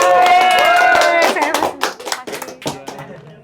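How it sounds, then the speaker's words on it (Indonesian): Audience clapping breaks out at a lively food-tour gathering in Bandung, loud at first over a sustained singing-like tone, then thinning into scattered, uneven claps as the crowd settles. "Tepuk tangan dulu dong."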